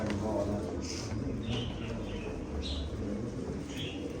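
Soft pigeon coos and faint chirps in old Mardin come through a muffled, noisy background, with a voice murmuring underneath.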